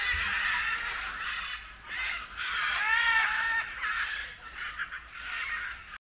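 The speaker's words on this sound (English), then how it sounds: "So there are macaws and parrots." Several macaws and parrots squawk and screech harshly in overlapping bursts, fairly close, with brief pauses between the raucous calls.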